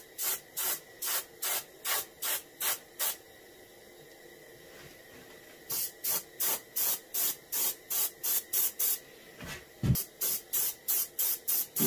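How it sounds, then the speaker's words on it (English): A reproduction warmouth fish is angle spray painted in short, even hissing bursts at a steady rhythm. After a pause of near silence, the rapid spraying resumes, close up, with no voices. "Blending everything in by angle spraying it."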